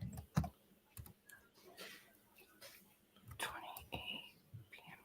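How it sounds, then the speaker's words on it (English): Scattered clicks of typing on a computer keyboard during a Sunday live stream, some sharp and close, with soft whispery voices and background murmur mixed in between the keystrokes. "Everybody's quiet while I'm typing."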